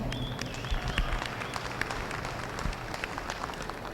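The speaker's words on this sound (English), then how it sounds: "once again, folks, let's give all these young people a round of applause." Audience applause at a junior miniature Hereford steer show, a moderate broadband patter of clapping with scattered louder claps, steady and fairly distant for several seconds.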